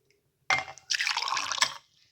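Carrot and orange juice pours into drinking glasses in a short splashing burst of about a second and a half, close and fairly loud, with no talking.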